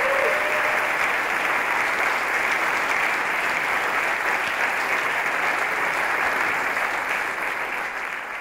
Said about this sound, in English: give a big round of applause to yourselves, to everyone here